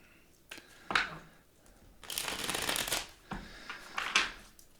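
Tarot cards are shuffled in several quick riffling bursts, with soft papery rustles between them, close up and with no talking.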